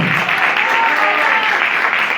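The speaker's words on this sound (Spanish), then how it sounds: "al que le da un fuerte aplauso en esta hora" Congregation applause during a Spanish-language evangelical church service, a dense, steady wash of many hands clapping at close range for the whole stretch, with no voices standing out.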